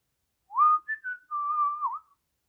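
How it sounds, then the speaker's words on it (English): A person whistles a short, wandering little tune alone in silence, a few brief notes sliding up and down over about two seconds. "I'm just kind of whistling to myself"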